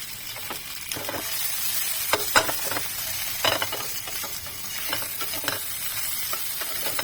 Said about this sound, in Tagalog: i-fry natin yung hipon